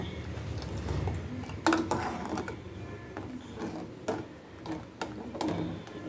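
A spoon stirs pearl millet (kambu) porridge in a pot, giving a quiet run of scrapes, clinks and soft knocks against the metal, up close and without speech.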